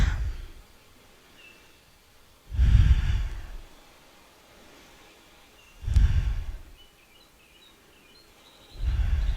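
Three slow, deep breaths from a person holding a seated chair yoga stretch, each a soft, breathy swell a few seconds apart, close to the mic with quiet pauses between.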